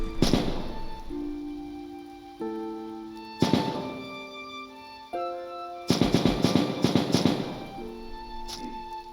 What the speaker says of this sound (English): these fire drakes shooting at us